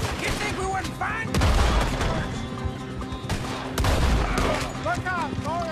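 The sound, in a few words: gunfire in Red Dead Redemption 2 video game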